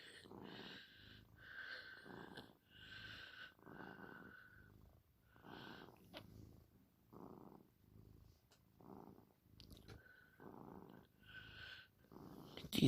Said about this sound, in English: Do you hear that purr?